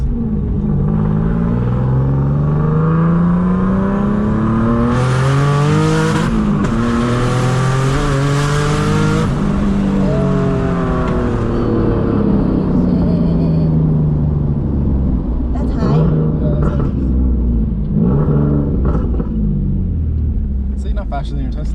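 Car accelerating hard on high boost, engine pitch climbing through several gear changes with a loud close roar from inside the cabin, people talking over it at times.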